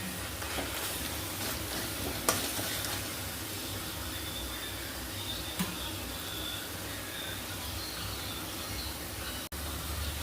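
Chili masala sautés in a pan for a spicy village-style chicken curry, a steady soft sizzle with an occasional light click of the spoon, heard alone at low volume.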